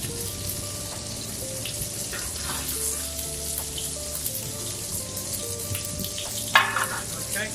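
Spinach frying in a pan over high heat, a steady close sizzle and crackle running throughout with one brief louder clatter near the end.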